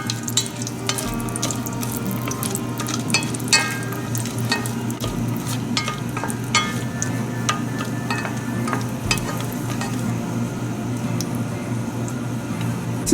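Whole green cardamom, cloves and cinnamon frying in a hot pan over medium heat for sweet Basanti pulao, giving a steady close sizzle with scattered small crackles and pops throughout, no voices.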